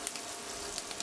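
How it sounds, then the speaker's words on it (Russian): Chopped onion sizzles in a hot frying pan as it softens in a home kitchen, a steady close crackle and hiss with small pops, no talk. "Сейчас немножечко обжарится лук, чуть-чуть, чтобы он просто стал прозрачным хотя бы."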